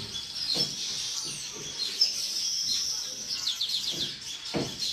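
Birds chirping continuously at the Mokolo market, with bright, rapid tweets and calls close by over a low background hum, along with faint market noise.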